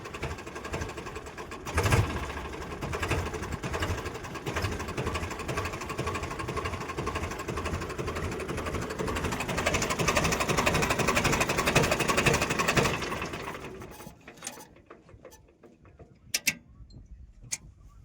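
An ALT 3500 tractor's diesel engine idles with a steady rapid knocking chug for several seconds, then cuts off, leaving scattered clicks and quiet.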